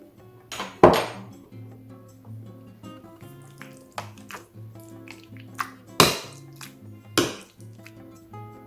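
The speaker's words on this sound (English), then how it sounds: "now I'm going to add a teaspoon of garlic and keep mashing" In a pot of South African bobotie, food mashed with garlic gives off sharp metallic clinks and taps as the utensil strikes the pot. Several loud strikes stand out over quieter scraping and a low background hum.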